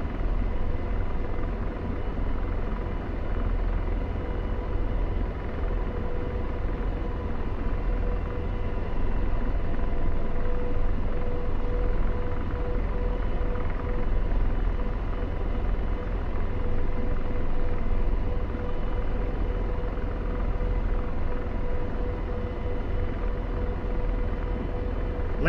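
AH-64D Apache helicopter in the DCS flight simulator, holding a low hover before landing: a steady, loud rotor and turbine drone with deep low-end rumble and a faint whine, unbroken for the whole stretch with no talk.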